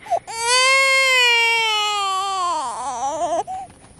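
A baby cries indoors in one close, sustained wail that wavers and falls in pitch before breaking off into short whimpers.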